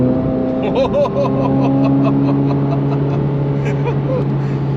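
A Chevrolet C8 Corvette Z06 engine in track mode drones and revs up steadily, close and loud, its pitch rising as it accelerates, with a voice speaking briefly over it.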